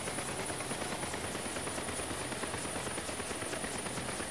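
A UH-1 Huey helicopter in the DCS flight game runs with its throttle rolled to idle, giving a constant dense turbine whine and rotor thump at an even level, with no voices.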